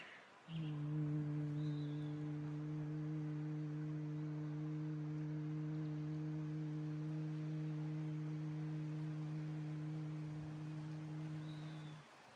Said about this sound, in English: Closing the ears with your thumbs and humming on the exhale.